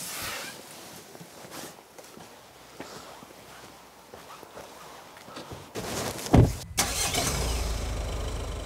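Dad's car engine turns over and catches near the end, after soft footsteps and rustling, then settles into a steady idle.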